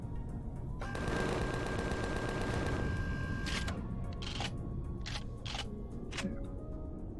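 A cannon drone opens fire in the space survival game Empyrion Galactic Survival: a dense, sustained barrage of rapid reports for a few seconds, followed by several sharper, separate blasts standing out against a steady mechanical hum.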